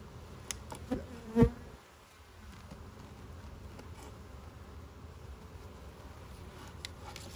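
Honey bees buzz around an opened hive during an inspection, a steady low hum with individual bees passing close, mixed with a few brief scraping and handling clicks near the start.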